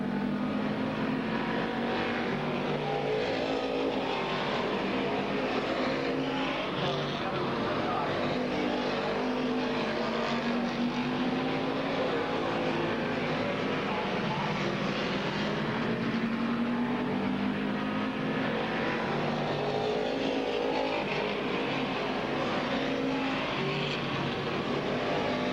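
Race cars roar around the oval at Midvale Speedway, their engines droning steadily in a continuous wash of revving and passing sound at moderate distance, with a race announcer faintly audible underneath.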